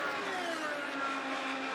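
An IndyCar race car's engine at the Indianapolis 500 screams at high, steady revs, loud and continuous with a slight downward shift in pitch as it passes, with no voices.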